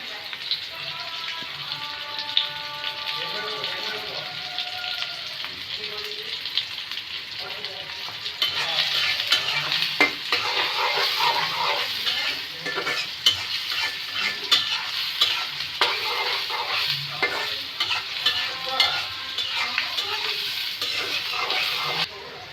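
Onions frying in a pan for bhindi masala, stirred now and then, produce a crackling sizzle that swells louder partway through and stays dense. A voice talks briefly over the quieter opening.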